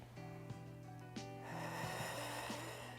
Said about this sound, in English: Deep breathing with sound.